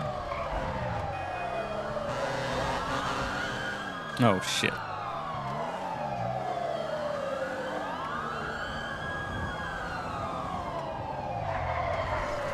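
Police car siren in GTA 5 roleplay, a wailing siren sweeping up and down steadily as the car gives chase, loud and close, with engine noise beneath, a brief burst of noise and someone speaking briefly.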